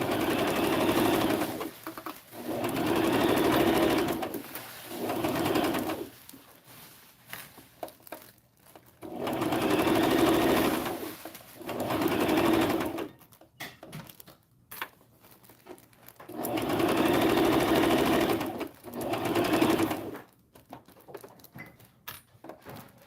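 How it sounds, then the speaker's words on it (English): Sewing machine stitching fabric for a Dollar Tree Christmas craft, running in three long, steady bursts of rapid needle whir with short pauses between, close and alone without talk. "I'm just going to sew over and then stitch, back stitch."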